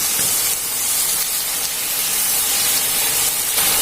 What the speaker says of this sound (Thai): แล้วเราจะนำเห็ดทั้งหมดเนี่ย ใส่ลงไปเลยนะคะ